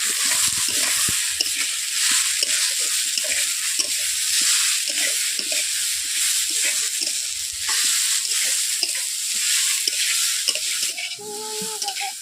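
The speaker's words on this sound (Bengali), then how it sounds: "ছোলা, আলু, একসঙ্গে সমস্ত উপকরণ দিয়ে আমি এগুলোকে ভালোভাবে নেড়ে নিচ্ছি।" Ingredients for Durga Puja bhoger khichuri, including chickpeas, potatoes and grated coconut, being stirred in a hot pan, with a steady sizzle and repeated spoon scrapes throughout, close and continuous, with no talking.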